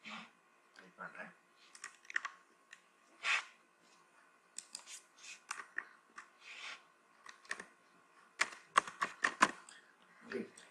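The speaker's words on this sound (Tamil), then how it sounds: "இப்போ நான் டைப் பண்ணுறேன்" Typing on a computer keyboard while working in AutoCAD 2016, irregular bursts of sharp close key clicks with pauses, separated by quiet gaps.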